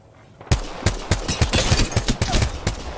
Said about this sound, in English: Chance, give him cover fire real quick.